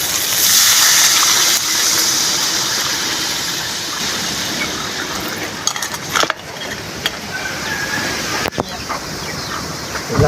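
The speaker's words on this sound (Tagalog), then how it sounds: "maglalagay na po tayo ng tubig." Water goes into a cooking pot of sautéed ginger, bay leaf and pepper for goat sinigang, a steady gushing splash and hiss that thins out, with a few sharp knocks toward the end.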